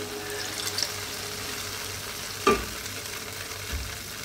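Palabok sauce being stirred in a pan on the stove, a steady soft simmer and scrape with one brief clink, close and alone.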